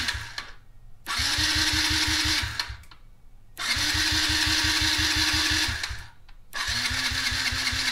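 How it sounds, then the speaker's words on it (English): A Yamaha TTR50 dirt bike's electric starter cranks hard off a portable battery jump starter in three long bursts, a fast rhythmic whirring chug with short silent pauses between, close and loud without the engine catching. "Man, it's really spinning that starter."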